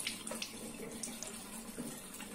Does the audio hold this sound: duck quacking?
no